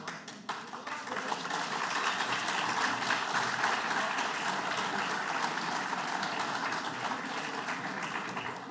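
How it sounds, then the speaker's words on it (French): Audience applause greeting a speaker at a French geopolitics conference, a dense, sustained clapping from a large crowd that rises quickly and holds steady for several seconds. "Pour un petit bonjour des applaudissements"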